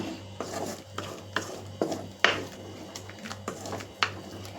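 Spoon or spatula scraping and stirring mixed ingredients in a frying pan while they sauté, giving repeated close rasping strokes in an irregular rhythm over a steady low hum.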